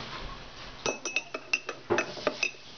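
A spoon stirs a drink in a glass, giving a quick run of about ten bright metallic clinks in an uneven rhythm, close and fairly loud.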